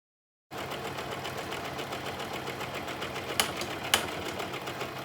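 An electric sewing machine stitches a seam on an Ankara fabric pillow cover, running as a steady close mechanical whir with two small sharp clicks partway through.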